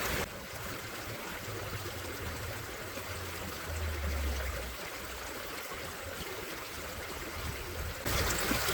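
Water rushing steadily through a gold panning sluice outdoors, a continuous broadband wash with no pauses, fairly close and even in level throughout.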